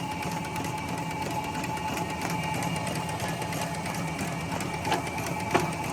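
A Formax/Quadient/Astro Memjet printer runs steadily while feeding long edge first, with a continuous close mechanical hum and whir, faint ticks and a few brief clicks near the end.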